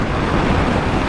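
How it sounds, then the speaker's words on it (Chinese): Steady roaring wind buffets a motorcycle helmet while riding along a windy seaside road at around 70 km/h, a dense, unbroken rush with no other sounds. "其实那个风切声真的很明显。"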